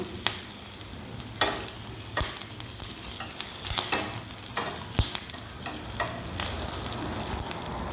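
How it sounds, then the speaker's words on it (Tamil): Curry leaves dropped into hot tempering oil with lentils for a white pumpkin kootu, crackling in a steady sizzle while a spoon gives occasional sharp scrapes and taps, no speech. "இப்போ இது கூட கொஞ்சம் கருவேப்பிலை சேர்த்துக்கலாம்."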